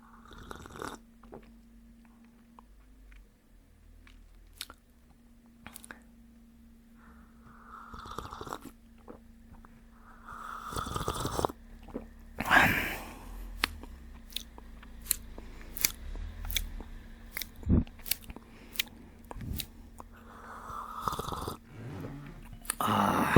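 Dried goji berries are chewed up close, producing soft, irregular crunchy bites and mouth clicks that grow denser and louder toward the end, with no talking.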